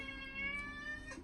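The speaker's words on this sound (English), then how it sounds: "Oh, that's my cat. He's having needs right now." A house cat meows close by during a quiet indoor recording, a short faint call over steady background hum with no talking.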